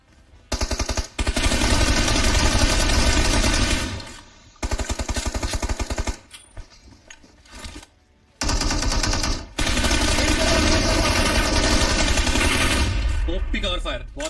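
Automatic gunfire from the PUBG Mobile video game comes in long loud bursts separated by short pauses, with rapid rattling shots and some faint voices beneath.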